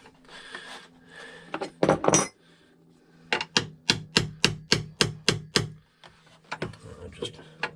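Hammer blows strike a bolt on a wooden Tahiti gaff cutter, a close run of about eight sharp evenly spaced metallic bangs after a few earlier knocks, with muffled talk at the start and end.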